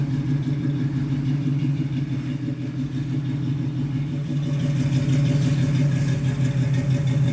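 A 1965 Ford Mustang Fastback with a 351 Windsor V8 idles steadily up close, a loud, even low rumble with a smooth continuous burble throughout and no talk over it.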